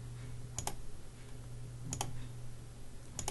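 A computer mouse clicks in three short, crisp bursts spaced about a second and a half apart, close and fairly quiet over a low steady electrical hum, with no speech.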